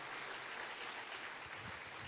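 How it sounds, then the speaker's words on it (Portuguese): Church congregation applauding during a celebration service, a steady soft wash of clapping from many hands, fairly distant and quiet, with no speech over it. "pela vida da tia Sara, pela obra do Senhor, aplauda ao Senhor pela recuperação, pela saúde"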